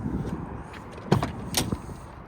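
A 1992 Volvo 240 car door is unlocked and opened: a low rustle, then a sharp mechanical clunk of the lock and a second click-and-thud as the door opens, close by.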